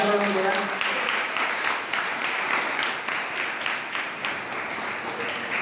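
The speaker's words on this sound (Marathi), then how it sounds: "जोरदार टाळ्या द्या।" Loud, sustained applause from a crowd at a school yoga day function, steady clapping filling the whole stretch with a speaking voice heard briefly at the start.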